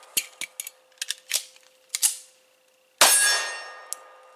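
A pistol slide is racked by the slingshot method during a reload, giving a run of sharp metallic clicks and clacks and then one loud snapping clack as the slide slams forward, with a single small click afterward, close and with no talking.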